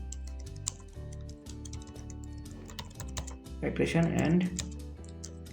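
Computer keyboard typing in ArcGIS 10.8 as a map title on river accretion and erosion is entered: quick, light keystroke ticks in an uneven stream, close and moderately quiet, running under a person's talking.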